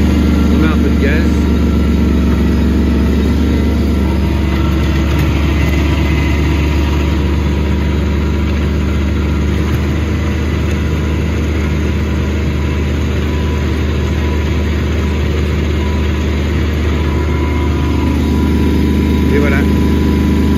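Kubota B1121 compact tractor with a rotovator, its diesel engine running steadily and loud throughout, with a slight rise as throttle is added; a voice speaks over it at times.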